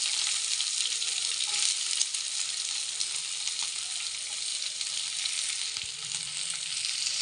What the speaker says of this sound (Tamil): இப்போ நம்ம வெங்காயம் பச்சை மிளகா போட்டுக்கலாம்.